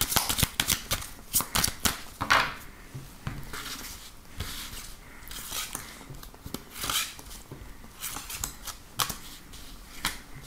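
A tarot deck is shuffled by hand before a reading, giving a run of crisp, close riffling and slapping bursts in an uneven rhythm, with no talk over them.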